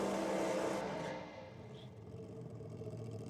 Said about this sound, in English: A fairly stout burnout.